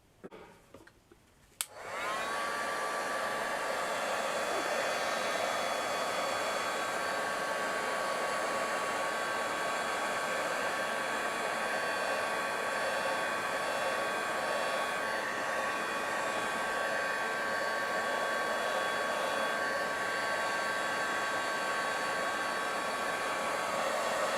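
A hair dryer blows steadily and loudly over a mixed media decoupage altered craft box, starting abruptly after a brief quiet handling moment and running continuously with a constant whine.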